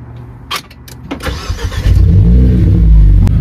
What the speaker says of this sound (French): quand on démarre, ça donne ça.